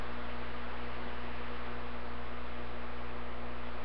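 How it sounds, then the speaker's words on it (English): Fans running in the background: a constant, steady electrical hum and whir with no change or breaks, fairly loud and alone. "hear them doggone fans running in the background"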